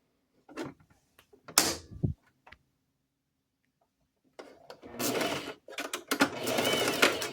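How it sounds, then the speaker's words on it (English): A sewing machine stitches around the edge of fabric: a few sharp clicks and short whirs, a pause, then longer rapid buzzing runs of stitching, close and moderately loud, with no talking. "we're going to take it to the sewing machine. And you're going to stitch around the edge."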